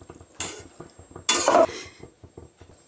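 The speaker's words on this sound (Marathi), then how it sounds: "छानपैकी व्यवस्थित मिक्स करून घेऊया" A spoon scrapes and clinks against a metal pot while mutton curry with vegetables is stirred, giving two bursts of stirring, the second louder and longer, over a soft rhythmic background tapping.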